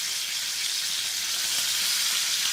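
Hilsa fish fries in a pan with a dense, even hiss of hot oil, close and steady from start to finish without any break.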